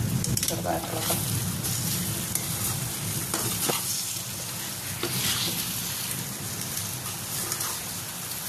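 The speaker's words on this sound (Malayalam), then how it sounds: "തീ കുറച്ച് വെച്ച് ചെറുതായിട്ട് ഇളക്കാം." Mango pickle is stirred in a pan over a low flame. A continuous close sizzle and crackle of frying is broken by occasional scraping stirs.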